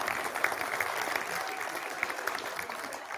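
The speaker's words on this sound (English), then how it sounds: "Give everyone an applause, please." Office staff applauding at an all-hands company meeting, steady dense clapping from a crowd in a room, continuous and moderately loud throughout.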